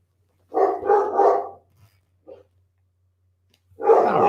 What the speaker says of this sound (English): I don't know what the heck they're barking at.